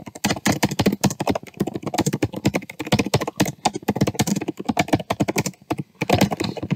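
Hard, loud typing on a Dell XPS 17 laptop keyboard produces a dense, rapid stream of sharp, close key clacks with barely a pause, heard alone without speech.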